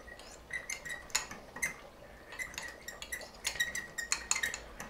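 A spoon clinks and scrapes against a pan or bowl while cornstarch is stirred into a red wine sauce for a beefy cheesy shepherd's pie, with quick, irregular metallic taps close by and no talking.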